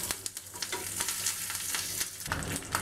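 Curry leaves and dried red chillies sizzle in hot oil for a coconut chutney tempering, a close, crackling frying hiss with sharp pops and a louder burst near the end, no voices.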